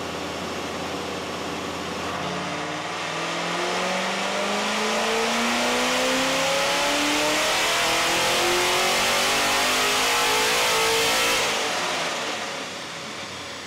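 Supercharged 2001 C5 Corvette with an A&A supercharger and bolt-ons revving on a dynamometer, a loud sustained engine pull climbing steadily in pitch for several seconds before the revs drop back, with no talking.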